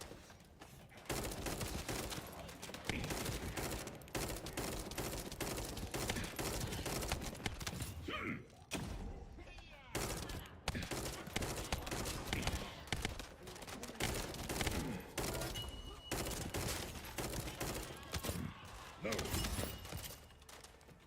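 Rapid bursts of gunfire from a short-range weapon in the sci-fi shooter game The First Descendant, dense and steady across the whole stretch with only a brief lull midway, loud and near.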